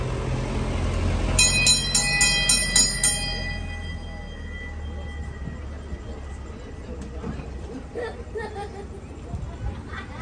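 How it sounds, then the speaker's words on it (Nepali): A mini train ride running in Cannon Hill Park in Birmingham, its bell ringing in a short rapid series near the start, then a steady low rumble under crowd chatter and voices. "यो मिनी ट्रेन हो उतै पे गर्नुपर्छ"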